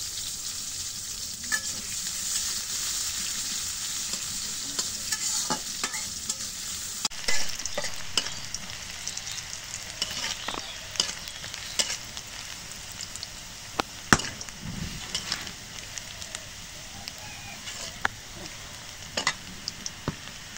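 Onions fry in oil in a wok, a constant crackling sizzle dotted with frequent small pops and irregular spatula scrapes and taps at close range, with no talking.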